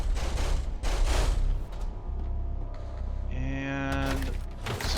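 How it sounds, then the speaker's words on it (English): Gunfire in the video game Forever Skies, fired to blast a ladder out of the way: loud bursts of shots in the first two seconds, then quieter mechanical game sounds and tones. "Let me just shoot that out of the way."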